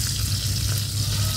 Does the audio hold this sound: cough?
no